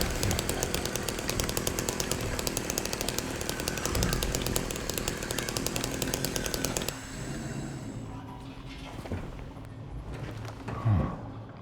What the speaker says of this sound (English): Do you like my chainsaw?